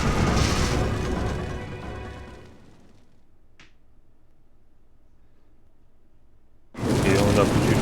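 In The Legend of Zelda: Twilight Princess, a loud, dense burst of explosion noise fades into near silence, broken by one sharp click, before another roaring blast erupts.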